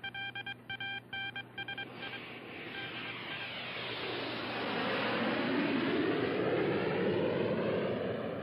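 Jet planes roar overhead in a radio drama scene, opening with a burst of rhythmic electronic beeps before a broad, rising engine rumble swells and stays loud to the end.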